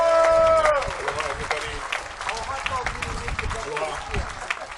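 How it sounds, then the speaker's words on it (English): Crowd at the 33rd annual Maui Festival in 2024 giving a round of applause for Maui mayor Richard Bissett, scattered clapping mixed with outdoor crowd murmur and voices, steady and moderately loud throughout. "a nice round of applause for Richard Bissett"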